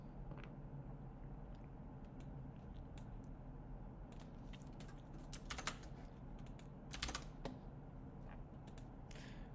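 Typing on a computer keyboard: quiet, irregular key clicks in short bursts over a steady low hum, close but soft, with a few louder clustered taps near the end.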